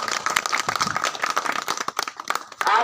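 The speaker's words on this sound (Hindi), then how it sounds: "एक बार ताली बजा दीजिए" An audience claps to welcome a guest at a Sanskrit degree college event, with dense scattered hand claps building a lively, fairly close round of applause that runs throughout.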